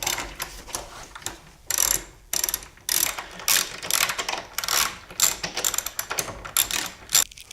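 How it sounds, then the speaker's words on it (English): A ratchet rapidly clicks in short bursts while loosening the leg bolts on a Stern Munsters pinball machine, with brief pauses between runs of close, crisp pawl clicks. "need to remove the leg bolts right here"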